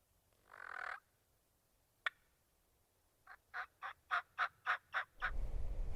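A wild Merriam's turkey in the Black Hills of Wyoming gobbles close and loud: a rapid rolling run of about eight sharp pulses, with a brief earlier call and a low rumble of wind afterward.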